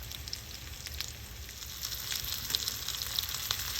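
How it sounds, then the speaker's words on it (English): Almond-crusted fish fries crust side down in a pan, giving a steady close hiss and sizzle with scattered small pops and crackles that grow slightly louder toward the end, with no voices. "Cooking crust side first will keep the fish from breaking easily."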